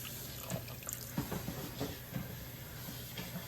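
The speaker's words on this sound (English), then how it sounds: "I'll add some water." Water pours and trickles into a small pot for making caramel, with light splashing and faint dripping, close by, no talking.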